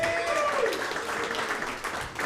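Sustained applause from a comedy club audience at the close of a set, a dense, loud roar of clapping and cheers with a voice briefly rising over it.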